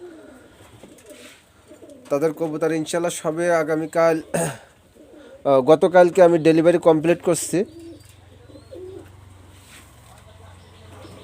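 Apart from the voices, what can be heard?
pigeons cooing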